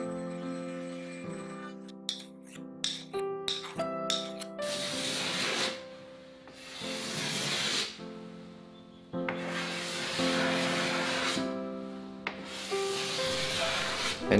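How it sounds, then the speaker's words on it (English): Hand planing, scraping and sanding of wooden parts for a baby cot, heard close up as a series of long rasping strokes with short pauses between them and no talking. "after a bit of planing, scraping and sanding"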